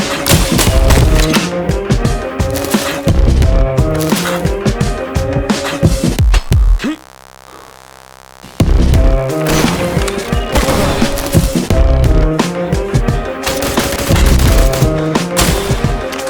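Assault rifle gunfire in the video game I am your Beast erupts in dense, loud automatic bursts with crashing impacts, drops into a brief hush of a low hum, then resumes in rapid volleys.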